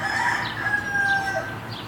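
A rooster crows at a distance, a long drawn-out call over steady outdoor background noise, with small birds chirping thinly in the surroundings.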